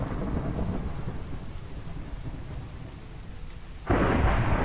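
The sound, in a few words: thunderstorm with rain in video game Minecraft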